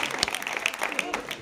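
A studio audience claps in a brief, dense burst of applause, steady and fairly loud across the moment, with voices mixed in underneath.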